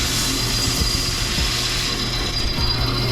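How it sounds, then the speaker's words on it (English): Power drill boring holes in the corners of a cutout, a steady whirring grind with slight chatter, fairly close and continuous, no speech. "So I gotta drill out all the corners"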